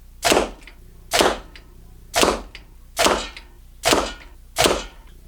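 Six arrows leave a bow and strike a paper-tuning target, bare-shaft Easton Axis 5mm arrows, each a sharp loud thwack with a short decaying swish, evenly spaced about once per second.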